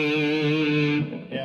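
A Harley Benton Fusion-III electric guitar in its first pickup position plays one sustained, heavily distorted chord that rings loud, then cuts off and is briefly restruck.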